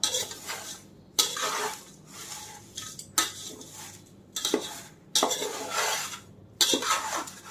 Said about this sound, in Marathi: चांगलं हलवायचं आहे.